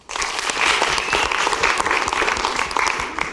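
A studio audience at a talk show claps together, a dense, steady wash of applause that stays loud and even throughout without any voices.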